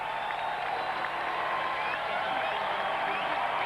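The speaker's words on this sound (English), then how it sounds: "this teeny Milwaukee crowd starts to make some noise" A small baseball crowd at a Milwaukee Brewers home game against the Diamondbacks makes steady noise with applause and cheering, a continuous even wash of clapping and voices throughout.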